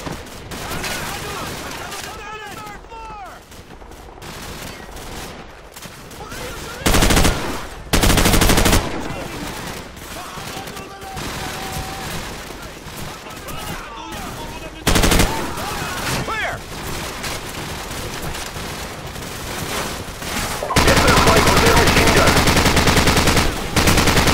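Gunfire in Call of Duty 4: Modern Warfare during a battle in the Bog: rapid machine-gun bursts and fusillades crackle near and loud, broken by intense blasts, with brief shouted voices mixed in.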